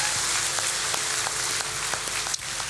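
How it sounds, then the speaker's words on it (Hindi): A seated audience at a Srimad Bhagwat Katha religious discourse in Ranchi claps to bid farewell, a dense, steady wash of applause filling the hall from start to finish without talk. "एक बार ताली बजाकर विदा भी दो भगवान को।"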